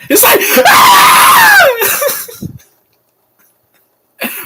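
A dubbed, full-throated scream from the 1990 film Home Alone, loud and sustained for about two seconds with a wavering pitch, then trailing off into silence before a brief voice returns at the end.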